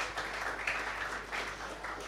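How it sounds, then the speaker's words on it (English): Applause from an audience at a science pitch event in Ghana, a steady wash of clapping that holds evenly for a couple of seconds at moderate distance, with no voices over it. "such a big man deserves a big round of applause."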